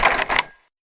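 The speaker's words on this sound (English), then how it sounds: "I heard the doorknob rattle." A doorknob rattles just outside a closed door: two quick, close metallic bursts, then sudden silence.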